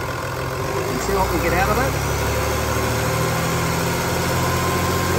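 A Volkswagen Amarok engine idles steadily, then its revs climb and hold at a higher pitch, with someone talking over the drone.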